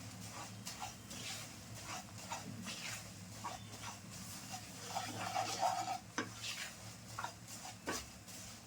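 A thick besan and milk mixture for mohanthal is stirred in a pan, with quiet, rhythmic scraping strokes and a faint sizzle underneath, all low in level.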